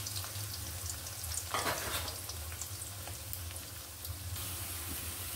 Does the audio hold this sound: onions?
yes